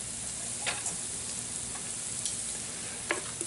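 Smoked pork butt sizzles steadily in a 14 inch Lodge cast iron pan, a continuous close frying hiss with occasional small pops and ticks, and no voices.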